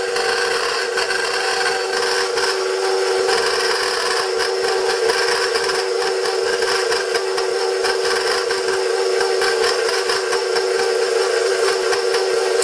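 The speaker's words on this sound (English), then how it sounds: "you're going to put your mixer on low because you don't want to make a mess" An electric mixer running on low, beating flour into Greek shortbread cookie dough, gives a steady, loud whirring drone that continues unbroken throughout with no talking.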